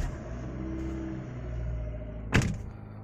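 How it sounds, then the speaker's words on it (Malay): A Perodua Myvi idles inside the car with a low, steady rumble, broken near the end by one sharp mechanical clunk. "So jom kita macam start kereta lah saja."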